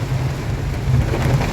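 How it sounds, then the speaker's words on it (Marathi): Rain pours steadily in a jungle, a dense close hiss with low rumbling underneath and no voices. "जंगल, पाऊस"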